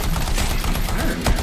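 Wrist cannons firing in the video game Anthem, a dense rapid burst of loud shots and blasts that runs without a break.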